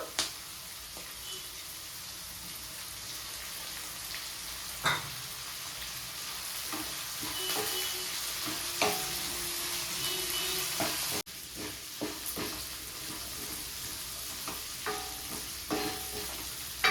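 Green peas and mint fry in a pan with a continuous close sizzle, broken by occasional stirring scrapes and spoon knocks against the pan.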